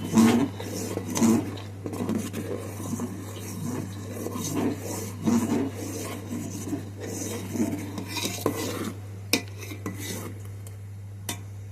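Sago pearls stirred in a pan while they cook, making steady scraping and clinking of a utensil against the pan over a low constant hum, with a few sharper knocks near the end.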